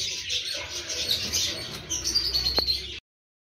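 Small birds chirp and tweet in quick, repeated calls close by, sounding over a steady wash of outdoor ambience, with one short sharp click near the end.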